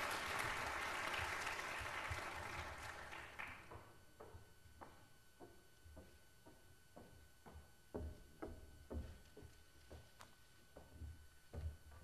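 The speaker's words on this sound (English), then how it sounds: "Give her a round of applause," An audience applauds a speaker being introduced at a poverty summit, dense clapping at first that thins into a few scattered, sharp individual claps.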